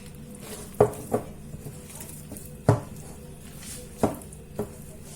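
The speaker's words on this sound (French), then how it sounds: "Je continue de mélanger comme ça." Burger bun dough being stirred with milk in a bowl, soft wet scraping with a few sharp knocks of a utensil against the bowl at irregular intervals, close and moderately quiet.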